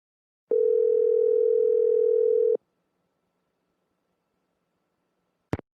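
A steady telephone line tone from the Nancy Drew game The Haunted Carousel holds for about two seconds, then cuts to near silence, and a short sharp click follows at the end.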